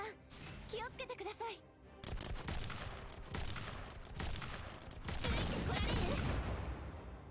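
Rapid gunfire from the mobile game Girls' Frontline, dense bursts and volleys running nearly continuously at close range, with a voice heard briefly near the start.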